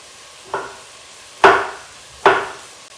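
A knife slices through a zucchini on a cutting board in a home kitchen, three separate crisp cuts spaced about a second apart, close and clear with no talking.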